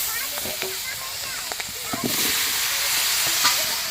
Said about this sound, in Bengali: চলো তাহলে মাছটা ভেজে নিই